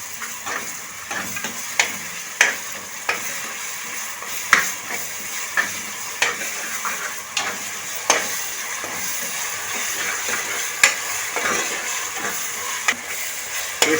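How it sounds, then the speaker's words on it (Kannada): Ginger-garlic paste frying with browned onions in a pan for beetroot pulao, a steady broad sizzle broken by regular sharp clinks of a spoon stirring against the pan, close and continuous without speech. "2 ಲೋಟಕ್ಕೆ 2 ಸ್ಪೂನ್ ಶುಂಠಿ ಬೆಳ್ಳುಳ್ಳಿ ಪೇಸ್ಟ್ ಹಾಕ್ತಾಯಿದ್ದೀನಿ. ಒಂದು 2 ನಿಮಿಷ ಫ್ರೈ ಮಾಡೋಣ."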